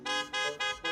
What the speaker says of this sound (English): the blaring car horns outside